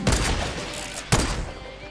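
Gunfire in Fortnite, a dense burst of rapid shots filling the first second, then a second sharp volley that tails off, loud and close with no talk.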